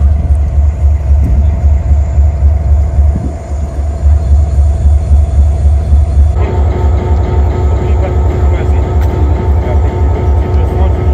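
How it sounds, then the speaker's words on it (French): Heavy, steady low rumble of an SNIM iron ore train locomotive at Choum station in the Mauritanian desert, loud and continuous with a brief dip, then a shift to a brighter mechanical drone. "Nous voici à bord de la locomotive de la SNIM."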